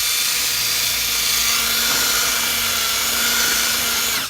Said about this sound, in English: I'm just going to take the drill